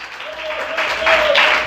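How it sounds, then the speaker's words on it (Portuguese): Church congregation applauding during a sermon, a steady wash of clapping that swells slightly toward the end, with a sustained tone running underneath. "Você pode aplaudir o Senhor e exaltar e adorar o nome de Deus"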